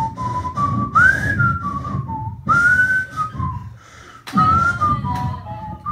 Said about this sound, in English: Listen to this tune I will now whistle for you